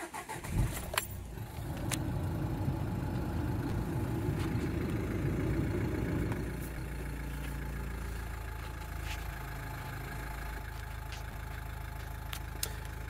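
Nissan Qashqai with a lack-of-power and boost fault, keys jangle, then the engine cranks and catches into a rough, rumbling idle for about five seconds before settling to a quieter steady hum, with a few faint clicks.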